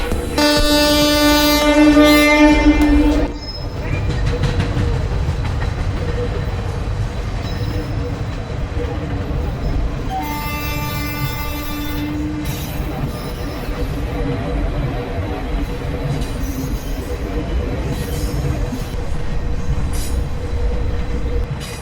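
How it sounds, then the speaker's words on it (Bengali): Godda Intercity Express train at a station platform, with a loud horn blast, then a steady rumble of rolling wagons and a second horn later as it departs, and a few people talking in the background. "আমরা গোড্ডা ইন্টারসিটি এক্সপ্রেসে যেতে গেছি আমাদের ট্রেন ছেড়ে দিয়েছে"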